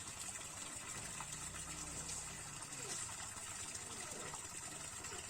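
Water flowing steadily along a man-made stream fed by a spring, a continuous close gushing and rushing that stays even throughout, with a low hum underneath.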